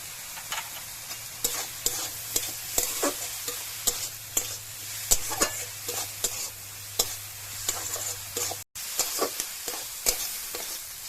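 Ritha fish curry sautéed in a pan with turmeric powder and mustard paste sizzles steadily while a spatula stirs and scrapes in frequent close, crisp strokes, with no talking.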